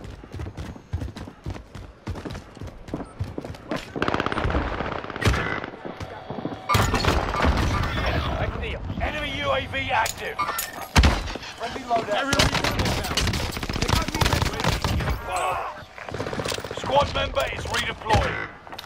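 Gunfire in Call of Duty Modern Warfare's Rebirth mode: dense, rapid bursts of automatic weapon fire and sharp shots, nearly continuous and loud, mixed with game sounds and voices.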